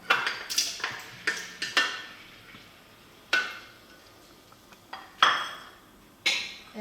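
Octopus goes into the sofrito in a kitchen cooking machine, heard as a scattered series of sharp clinks and knocks against the metal bowl and lid, fairly close, with quiet gaps between them.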